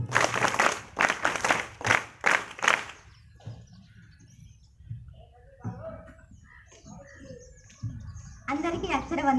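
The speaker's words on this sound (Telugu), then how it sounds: "మరి విద్యార్థుల యొక్క చప్పట్లతోటి ఈ కార్యక్రమాన్ని ఆ విద్యార్థులకు అప్పచెప్తున్నాను." Students at a school assembly clap in several strong rhythmic bursts, then the clapping stops and a voice begins speaking alone.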